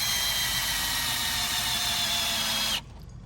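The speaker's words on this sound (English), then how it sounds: "they're pretty awesome because you can hit them with the electric drill" Electric drill cranking the stabilizer jacks on a Venture SportTrek camper, a steady loud whine with low motor rumble running for almost three seconds before cutting off abruptly.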